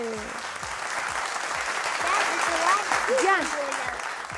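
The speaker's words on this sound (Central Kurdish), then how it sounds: "ئەوە پێنج و یەک چەپڵەی بەهێز" Strong audience applause on a television quiz show, a loud continuous clatter of clapping that swells midway, with a voice talking and tonal sounds running over it.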